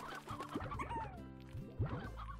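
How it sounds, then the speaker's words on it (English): Stony hens in the Slime Rancher video game cluck in short, close bursts, a quick run of clucks followed by another cluster after a brief pause. "I'm gonna throw some stony hens in here."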